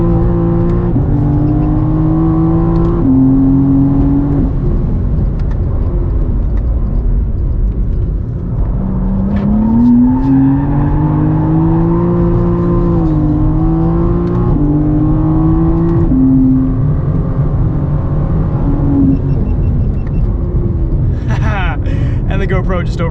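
A 2023 BMW M4 CSL accelerates hard on a track in Sport Plus mode, its engine note climbing and dropping through the gears, loud and continuous from inside the cabin, with occasional talk over it.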